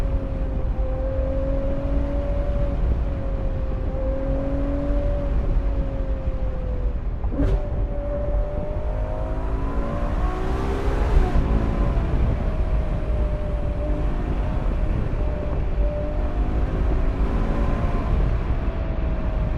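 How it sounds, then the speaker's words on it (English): A Ferrari 812 GTS V12 engine hums steadily, its pitch rising and falling through gear changes, with a brief sharp click partway through. "I figured I'd just shut up and let you guys hear some of this engine"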